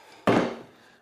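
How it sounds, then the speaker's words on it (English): A small captive nut drops off the rear-end hardware of an S10 pickup during a rear axle swap, one sudden close clunk with a brief ringing decay and no voices. "My nuts fell off."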